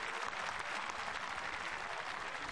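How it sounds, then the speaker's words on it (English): A stadium crowd at a women's 500 m speed skating sprint final applauds an athlete's introduction with steady, dense clapping from start to finish. "Julia Buongiorno getting good applause."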